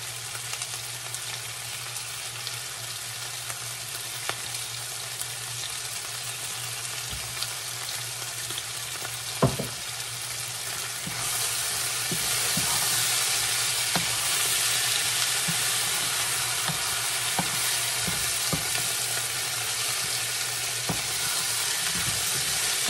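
Pork belly with eggplant and shrimp paste frying in a pan, a continuous loud sizzle that swells midway, broken by clinks and scrapes of a utensil stirring, close and steady throughout.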